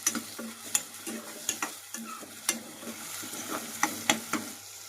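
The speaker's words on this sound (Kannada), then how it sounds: "ಇದನ್ನು ಉಳ್ಳಾಗಡ್ಡಿ ಮೆತ್ತಗಾಗುವವರೆಗೆನೂ ಇದನ್ನ ಫ್ರೈ ಮಾಡಬೇಕು" Chopped onions with curry leaves frying in a pan for egg bhurji, a quiet steady sizzle punctuated by sharp spatula taps and scrapes at irregular intervals, with no voices.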